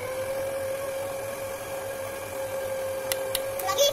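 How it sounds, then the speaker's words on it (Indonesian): An electric mixer whirs with a steady high hum while beating butter cream with whipped cream, close and continuous, with a few light clicks and rattles toward the end. "Lalu kita mixer."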